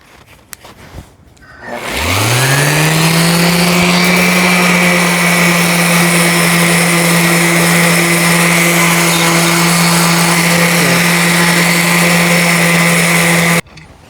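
A power sander works over a five-dollar garden hoe, starting after a few handling clicks, then holding a loud, steady motor whine that cuts off abruptly near the end.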